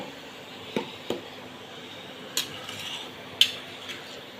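A utensil stirring Maggi noodles in a pot, a few sharp scattered clinks and scrapes against a quiet background with no talking.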